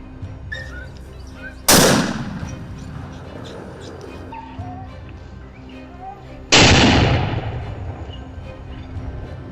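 Two loud gunshots from a wild boar hunt on a crop farm, several seconds apart, each a sharp blast trailing into a fading echo over faint outdoor background.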